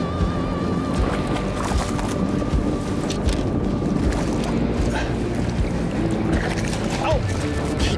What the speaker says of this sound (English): God, the wind is getting up.